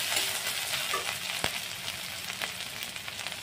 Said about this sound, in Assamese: আদা নহৰুখিনি অলপ ভাজি ল'লোঁ